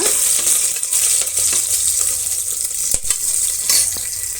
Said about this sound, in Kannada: ಒಂದು ಏಲಕ್ಕಿ ಕಾಯಿ ಎರಡು ಮೊಗ್ಗು ಮತ್ತು ಸ್ವಲ್ಪ ಸೋಂಪನ್ನು ನಾನು ಸೇರಿಸ್ತಾ ಇದ್ದೀನಿ ಈಗ ಇಷ್ಟನ್ನು ನಾವು ಫ್ರೈ ಮಾಡೋಣ